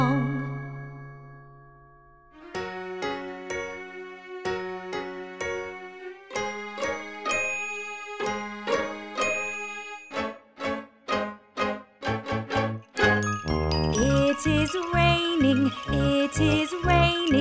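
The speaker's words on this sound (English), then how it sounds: "Brother John, morning bells are ringing" Bright chiming bell tones in a children's nursery rhyme tune, starting with a soft low intro, then rhythmic repeated ding-dong bell notes that build into a fuller, busier musical passage at the end.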